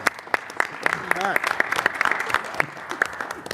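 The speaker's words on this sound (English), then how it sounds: "How about give a round of applause for our dean" Scattered applause from a small group in a city council meeting room, with distinct individual claps spread unevenly over a few seconds and a voice speaking briefly over them.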